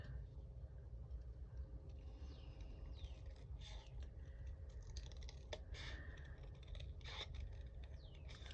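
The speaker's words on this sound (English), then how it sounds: "I'm letting the scissors do all the work while I manoeuvre the card" Crisp scissor snips cut through stiff card in an irregular series of short bursts, close by, over a steady low background hum.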